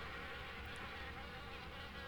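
Wasps drone steadily at an abandoned house's attic window in the video game Harvester, a dense, continuous insect buzz with no pauses, fairly loud and close, with no talking.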